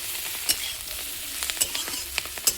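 A spoon stirs Kashmiri chilli powder through cauliflower and potato in a hot pan, making a soft, even sizzle with sharp scraping clicks at irregular moments, close and without talk.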